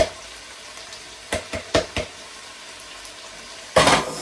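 Spring onions fry quietly in a pan while being stirred, with a few distinct scraping clacks of a utensil against the pan, then a louder burst of sizzle near the end.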